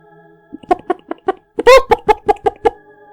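Chickens cluck in short, close bursts, one rising into a louder squawk midway, alone without talking.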